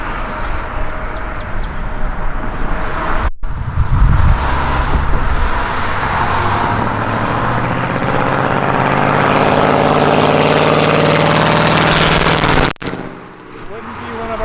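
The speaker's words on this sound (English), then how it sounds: "if we didn't have a loud, obnoxious truck." A loud truck engine roars past on a town street near a bridge, swelling heavily and rumbling for several seconds before fading, with brief wind or handling noise at the start and end.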